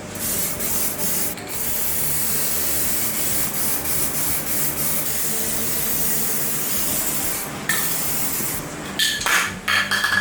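Steady spray-paint hiss coats the damaged body of a Dodge Charger R/T, running continuously for most of the stretch before breaking into short, sputtering bursts as the can nears empty.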